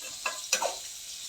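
Spinach thoran sizzles in a pan as a spoon stirs it, with two or three quick scraping strokes over a soft hiss that then settles.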